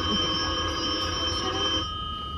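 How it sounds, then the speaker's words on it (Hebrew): A telephone rings during a school theatre stage play, an electronic bell sounding steadily and close for about two seconds before cutting off, with no talk over it. "זה מצלצל או לא מוצא? מצלצל, אנחנו נדאג לענות?"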